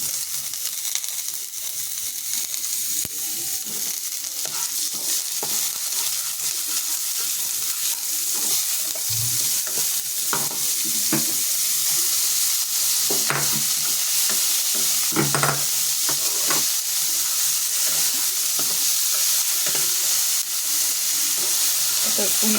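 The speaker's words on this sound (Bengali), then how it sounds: "পনিরটা হালকাই ভাজতে হবে, বেশি কড়া কড়া ভাজা যাবে না।" Paneer fries and sizzles in hot salted oil in a pan while it is stirred, giving a steady close hiss with scraping and clinking. It runs alone for over twenty seconds.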